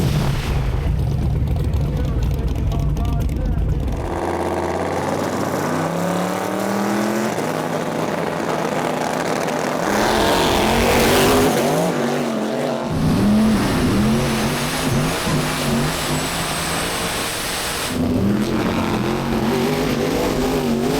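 Race car engine at a no-prep drag racing event, loud and sustained with revving surges and a burst around the middle, possible tire squeal, continuous roar throughout with faint voices underneath.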